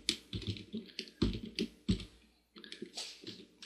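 Someone types on a computer keyboard while entering a first Perl program, producing a close, irregular run of crisp key taps with a brief pause midway.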